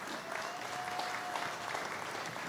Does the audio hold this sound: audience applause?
yes